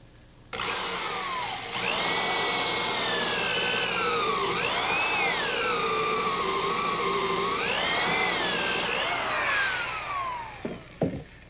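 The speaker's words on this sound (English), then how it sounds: "I'm going to start with an inch and a quarter counterbore." A power drill whines steadily as it bores an inch-and-a-quarter counterbore into wood, the pitch dipping twice as the bit bites under load, then spinning down with a few clicks.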